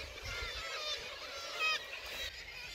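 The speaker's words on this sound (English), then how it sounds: "They're called kittiwakes." Kittiwakes call at a noisy seabird colony on Scotland's east coast, a faint, distant chorus of overlapping cries with occasional slightly louder calls.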